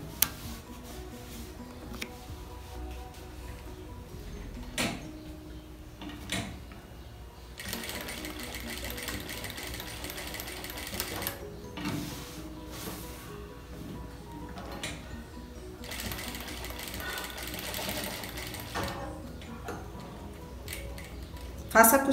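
A sewing machine runs in several long bursts, stitching slowly along the edge of patchwork fabric flower petals on a dish towel, with short pauses and light handling clicks between runs.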